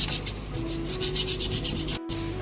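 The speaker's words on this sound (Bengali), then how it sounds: "রোটারটাকে একটু কালো হয়ে গেছে, এটাকে আমরা একটু ঘষে পরিষ্কার করে নেবো সিরিজ পেপার দিয়ে" Sandpaper scrubs a blackened electric motor rotor clean in quick, repeated rubbing strokes, close and crisp, with a steady low hum beneath and a brief pause near the end.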